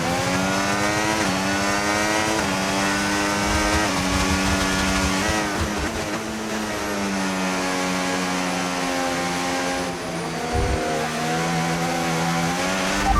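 A Formula 1 car in F1 25 heading into the pit lane, its engine a steady, loud, high whine that rises and falls in pitch as it shifts and slows, with a brief thump near the end.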